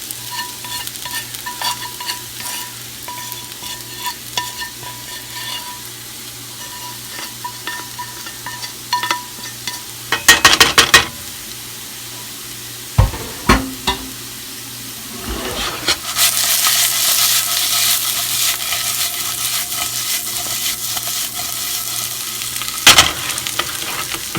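Spices including paprika and caraway seed are stirred together with other ingredients in a hot pan, a steady sizzle under repeated scraping strokes, with a few louder clatters and a hiss that swells for the final stretch.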